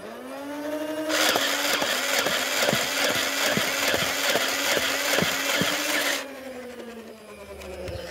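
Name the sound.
Nerf Ultra Select blaster firing bursts of darts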